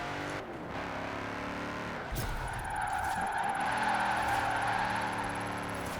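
An all-wheel-drive Audi RS6 drifting in Forza Horizon 4, its engine droning and revving through a slide with a brief thump midway, then tyres squealing in a sustained, bright screech under the steady engine note.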